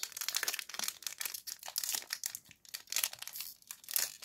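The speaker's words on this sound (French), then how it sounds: "on va ouvrir ces 2 boosters là tout d'abord" Pokémon booster pack wrappers being torn open, a close, continuous crinkling and crackling of foil plastic in uneven bursts with brief pauses, no voices.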